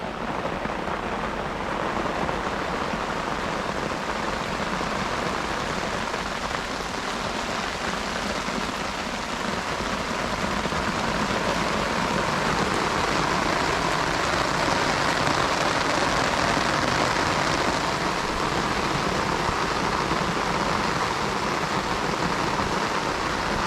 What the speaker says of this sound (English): I'm going to wait till this rain eases off.